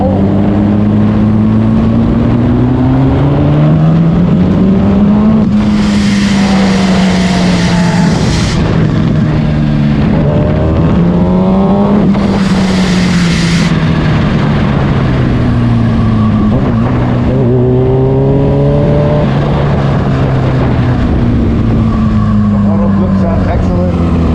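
Kawasaki Ninja H2 motorcycle accelerating hard on the road, its engine rising through gears with strong pitch sweeps and loud rushes of wind, continuous and close, with a rider's voice heard.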